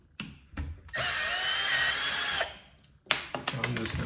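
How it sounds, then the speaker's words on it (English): A power drill backs out the screws of a wall outlet during an outlet and switch swap: two short taps, then a steady close whine for about a second and a half, a pause, and more brief bursts of handling. "I'm using a drill just because it's what I had set up"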